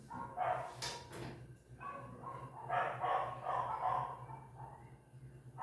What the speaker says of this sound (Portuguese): só a cachorrada latindo